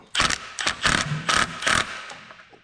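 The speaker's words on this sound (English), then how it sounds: "probably use a shallow socket to get them off" A ratchet with a shallow socket works on bolts on a Ford flathead V8 engine, giving five quick, close bursts of rapid pawl clicking separated by short pauses.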